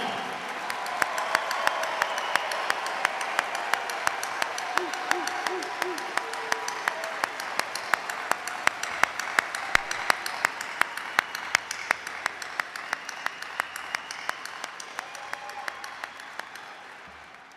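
Sustained applause from a large crowd at a university graduation ceremony, continuous clapping for many seconds with distinct nearby claps punctuating the wash of sound.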